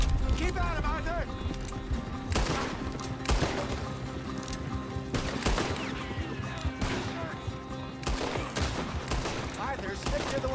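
A gunfight in Red Dead Redemption: rapid bursts of rifle and pistol shots crack out repeatedly over several seconds, mixed with hoofbeats and crashes, while characters shout and talk throughout.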